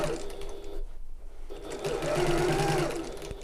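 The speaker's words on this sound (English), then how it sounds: "As I'm sewing this, just taking my time to move the bulk of fabric out of the way" A sewing machine stitches through bulky fabric for a tote bag, running in a steady whirring burst, briefly pausing, then resuming closer and louder; no voice is heard.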